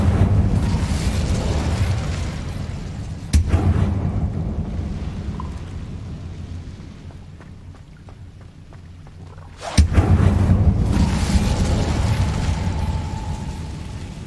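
Fiery spell blasts in the video game Hogwarts Legacy, two sudden loud bursts several seconds apart, each followed by a roaring rumble that fades out between them, with no talking.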